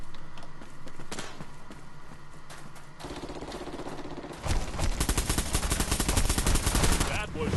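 Rapid automatic turret fire from the online shooter Bullet Run in an enclosed alleyway, dense sustained bursts swelling loud over a busy game soundscape with some background voice.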